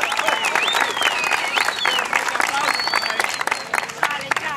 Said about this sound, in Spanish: a donde le quiero un fuerte aplauso